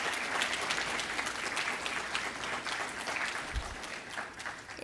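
Steady applause from a crowd, dense clapping holding at a constant level for several seconds with no voices standing out.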